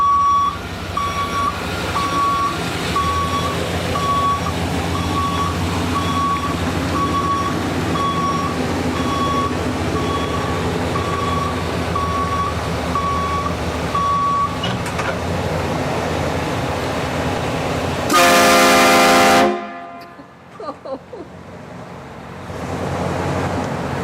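Hornblasters train horns fitted to a truck let out one loud, piercing blast of about a second and a half, coming after a long stretch of steady electronic beeping and background rumble.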